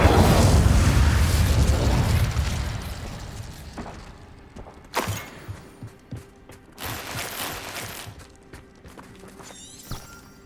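An Incendio fire spell in Hogwarts Legacy blasts with a loud fiery roar that fades over a couple of seconds, followed by scattered pops, bursts and footstep-like thuds.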